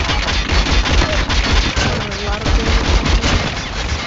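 Rapid gunfire bursts in the mobile shooter Call of Duty Mobile, loud and close, firing in quick repeated volleys through the whole stretch with no pauses.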